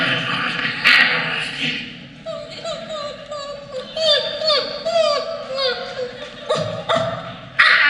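A voice actress imitates a cartoon dog at a convention panel, giving a string of high yips, barks and whimpering growls, close and lively, with a murmuring crowd and some talk around them.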